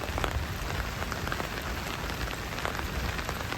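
Steady rain falls on a boatyard in Panama during the rainy season, a dense, even patter of drops on hard surfaces that continues without a break.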